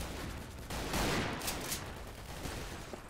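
Gunfire in the multiplayer shooter game Double Action: Boogaloo, a brief crackle of shots at moderate distance swelling around the middle over steady game noise, with no talk.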